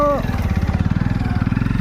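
A motorcycle engine runs close by with a fast, even putter of regular pulses after a short tonal beep at the start, with a voice talking over it.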